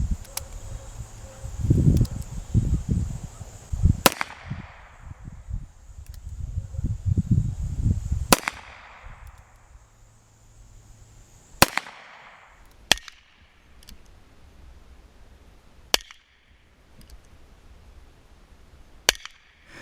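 Single-action shots from an H&R Premier .32 S&W revolver at a 10-yard range, sharp loud cracks spaced several seconds apart with rustling handling noise in between.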